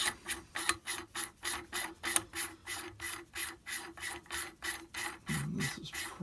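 Aluminum free-float handguard on a DPMS Oracle .308 rifle, greased with graphite, is turned onto the receiver threads, giving a steady train of rhythmic rasping, ratcheting strokes, about three per second, close and fairly loud with no talking.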